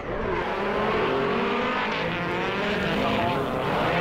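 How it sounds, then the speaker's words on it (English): A carbureted V8 sprint car and a highly strung turbocharged Nissan SR20 race car scream past together, a loud sustained engine roar at full throttle throughout with no pause. "big power sprint car carbureted V8 with something a bit more modern and traditional in Anthony Billick's car, that highly strung turbocharged SR20"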